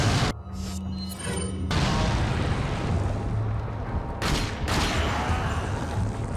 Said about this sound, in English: we'll get him with a flame grenade